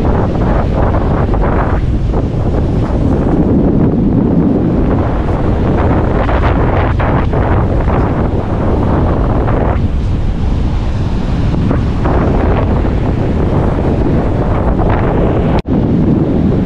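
Strong wind roars continuously against the microphone, gusting heavily, with surf or rough water churning underneath throughout.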